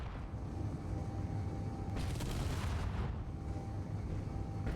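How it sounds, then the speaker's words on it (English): A missile blast in Space Engineers erupts as a deep, rolling boom over a low rumbling bed, with a bright crackling burst flaring for about a second before settling back into heavy rumble. "Well, I like the explosion."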